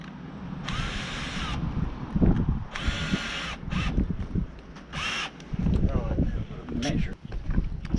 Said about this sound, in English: That's just pre-drilling the holes for the screws